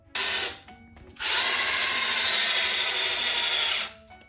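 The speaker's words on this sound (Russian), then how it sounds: "мы сверлим зеркало, потому что иначе мы не можем его повесить" A power drill boring through a mirror: a short high-pitched whine burst, a brief pause, then a longer sustained shrill grinding drone of about two and a half seconds, close and loud with no talking.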